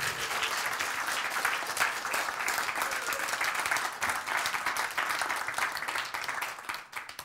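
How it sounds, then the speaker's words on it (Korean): A seated audience at a church Bible lecture applauds in sustained, dense clapping for about seven seconds. It sounds steady and fairly loud, then thins out at the very end. "그러라. 박수."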